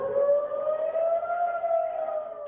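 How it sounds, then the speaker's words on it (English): Civil defense sirens wail steadily during a memorial service marking the anniversary of a music festival massacre, a sustained, slightly rising tone held loud and unbroken throughout with no talk. "as sirens sounded at the exact moment of the music festival massacre 2 years ago"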